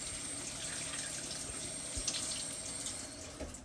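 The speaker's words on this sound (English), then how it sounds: "Always rinse off your vegetables because there could be bugs on it, pesticides, things of that nature. So, I'm going to rinse the whole celery off." A kitchen tap runs steadily as whole celery stalks are rinsed under the stream, a continuous close splashing hiss with small shifts as the stalks move, no talk.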